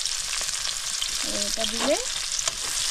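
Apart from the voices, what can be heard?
onions frying in oil with fenugreek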